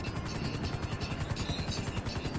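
A helicopter in Grand Theft Auto V thuds with a fast, steady rotor chop and whining turbine hum, loud and close throughout with no talking.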